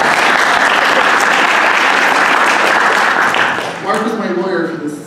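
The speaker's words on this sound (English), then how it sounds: "if he would stand up and take a round of applause" A conference audience at a skeptical activism workshop applauds a lawyer, loud sustained clapping from a crowd that tapers off as a voice begins speaking over it.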